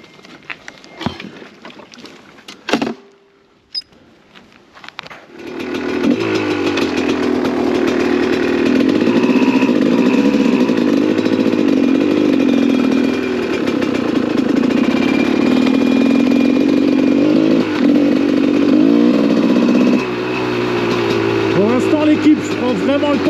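A GasGas 300 two-stroke dirt bike starts after a few attempts, then idles loud and close with a buzzy, steady drone while it warms up, with a slight blip near the end.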